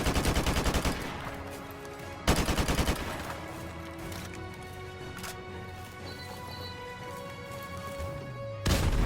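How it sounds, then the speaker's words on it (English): AK-47 hip fire in a Call of Duty game, loud rapid automatic bursts of rattling shots, with a long burst at the start, another a couple of seconds later, and a final burst at the end, separated by quieter gaps. "This is the AK-47. It has recoil. But it doesn't matter. You can just hip fire."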